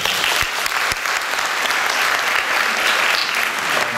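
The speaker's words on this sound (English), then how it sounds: "let's give her a round of applause for her." A room of people gives a presenter a round of applause at a college climate survey results presentation, with loud, dense clapping sustained for about four seconds.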